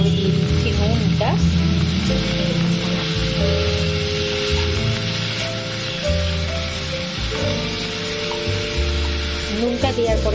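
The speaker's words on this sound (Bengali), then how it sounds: "ব্রকলিটা দিয়ে আমরা গ্যাসের ফ্লেমটা একটু বাড়িয়ে দিচ্ছি। দিয়ে এটাকে ভেজে নেব 2-3 মিনিট মতো।" Broccoli fries in a pan over a raised gas flame, a steady loud sizzle with faint stirring and scraping throughout, close by and with no talking.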